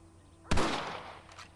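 A single loud rifle shot in the video game Red Dead Redemption cracks sharply, then rolls off into a long echoing tail, with no voices heard.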